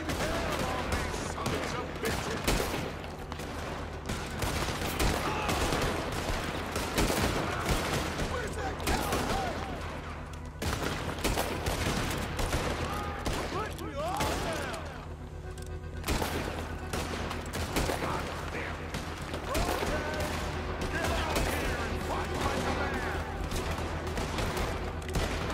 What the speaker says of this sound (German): Oh, schöner Schuss!